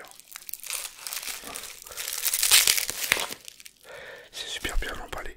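A packaged microphone kit is unwrapped up close, with loud crinkling plastic and paper, tearing and rustling bursts separated by brief pauses, and a soft voice murmuring in the background.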